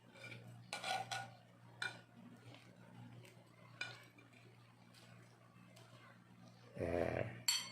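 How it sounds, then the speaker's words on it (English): Cooked prawns scraped off a pan into a bowl: soft intermittent scraping and clinking of a utensil on metal, with a louder scrape near the end, faint and close. "we're just gonna scrape them off the pan and put it into that bowl"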